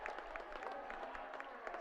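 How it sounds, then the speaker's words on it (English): A basketball crowd at a boys' high school game between Moorhead and Rogers claps and cheers after a 3-point basket, the scattered applause sounding faint and distant. "his team is cheering him on tonight"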